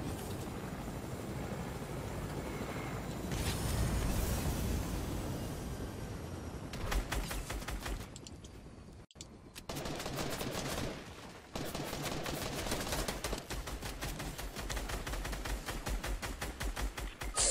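Rapid bursts of automatic gunfire in a first-person shooter video game, loud and dense with sustained volleys, brief pauses and a sharp cutoff midway before firing resumes; no talking.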